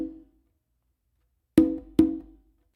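Single conga played in a basic funk pattern, one ringing stroke followed after a pause by two quick, close, resonant hits, each decaying briefly with no talking.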